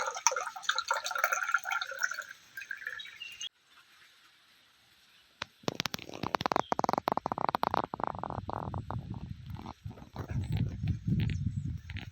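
Banana stem juice mixed with jaggery, cumin and pepper drips and trickles through a filter, with soft irregular splashes and liquid pouring that grows heavier after a short quiet pause.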